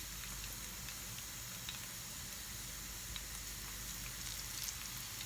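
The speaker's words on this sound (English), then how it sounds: "is to drop our fennel rings in one at a time" Fennel rings frying one at a time in hot oil, a steady broadband sizzle with faint crackles and pops, no talk.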